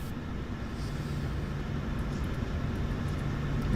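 Steady broadband roar of an airliner's engines spooling up for takeoff in Microsoft Flight Simulator 2024, a constant, even rumble with no breaks or voices.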